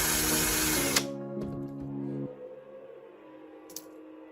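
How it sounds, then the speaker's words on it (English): A drill bores a hole into a rolled strip of aluminum soda can, a loud whirring burst for about a second, then a lower winding-down buzz that fades, with a faint click near the end. "Then drill a hole into the aluminum roll."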